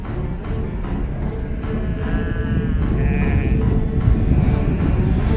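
Sheep bleating repeatedly at close range, several overlapping wavering calls over a dense, continuous low rumble of flock or field noise.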